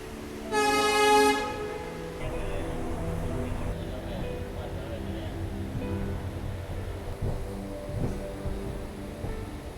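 A train departs Bhagat Ki Kothi station near Jodhpur in the early morning, opening with a loud horn blast, then a low rolling rumble of wheels and carriages building steadily, with brief voices in the background.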